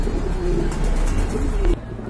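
Pigeons coo close by in soft, low, rolling murmurs, a short run of throaty calls over background noise.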